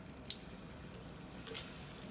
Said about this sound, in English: if you're going to use a sink, you're going to turn the water on